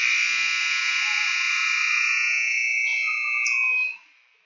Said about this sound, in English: But that's the final buzzer.